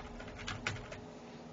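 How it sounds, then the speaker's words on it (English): A computer keyboard clacks as a password is typed, with a few quick, soft keystrokes in a short close-up burst over faint background hum. "let's see if I can type my password correctly"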